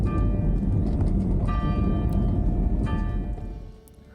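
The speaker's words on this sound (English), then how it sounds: "Oh, and the bell ringing." A bell rings out a couple of times in Tobermory on the Isle of Mull, over a steady, rough rumble of wheels rolling across stones.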